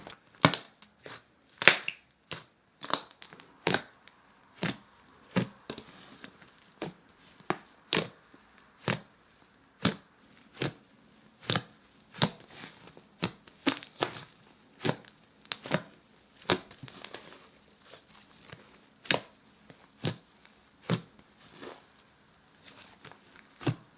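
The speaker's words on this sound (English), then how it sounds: "super clicky, fluffy slime" Fluffy slime made with shaving foam is squeezed and pressed up close, giving a long series of crisp, wet clicks and pops at an uneven rhythm with quiet gaps between them.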